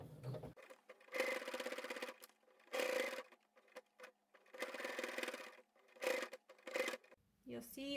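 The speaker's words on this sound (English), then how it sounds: "I'm just going to carefully and slowly stitch on the line, making sure to back stitch when I start and stop" A domestic sewing machine stitches slowly through fabric for a stuffed toy, running in short bursts of rapid needle chatter with pauses between as the presser foot is lifted and the work is pivoted, heard close and steady.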